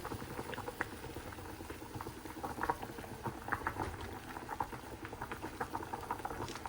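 A liquid bubbles in a cooking pot on the stove, a soft, steady patter of small pops and gurgles heard close but faint throughout, with no talk.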